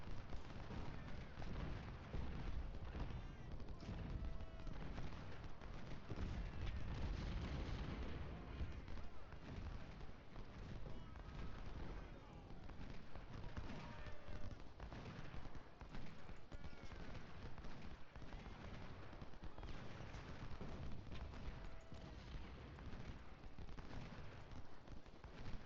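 Continuous crackling musket volleys and dull booming artillery in a Civil War battle at Bull Run in the strategy game Ultimate General: Civil War, a dense, fairly distant barrage running throughout, with a voice talking over it at times.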